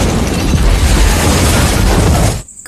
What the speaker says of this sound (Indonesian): tiba-tiba ada sebuah bom yang meledak di suatu tempat